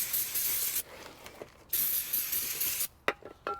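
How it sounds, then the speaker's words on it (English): Brake cleaner aerosol sprayed onto a new front brake rotor of a 2006-2012 Subaru Legacy to strip its protective storage coating: several close, loud hissing bursts separated by brief pauses, the last ones short and sharp. "You just want to take some brake clean, spray it off"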